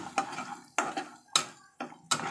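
Roasted, ground coriander, cumin and fennel being sautéed in a pan for Shegaon kachori: five distinct scraping, stirring strokes of a spoon against the pan, close and fairly loud, separated by brief quieter gaps.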